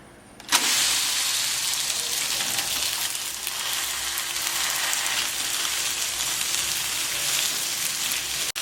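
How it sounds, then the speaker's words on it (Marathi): Thalipeeth batter hits a hot oiled pan with a sudden sharp sizzle, then fries in a steady, loud crackling hiss that continues to the end. "चांगला गरम झालाय तेल लावून घेऊ आता थालपीठ घालू"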